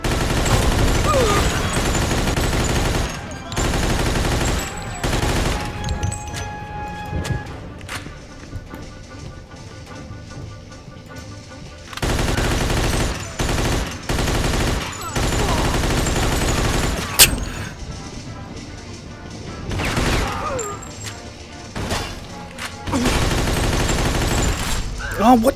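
Machine gun suppressing fire in the video game Mafia II rattles in long, loud bursts separated by short pauses. Someone talks over the shooting at times.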